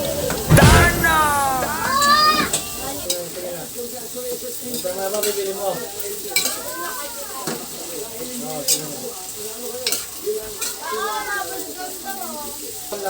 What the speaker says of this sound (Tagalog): kapag nag-caramelize na yung bawang at sibuyas, susunod ko naman ilagay ang sitaw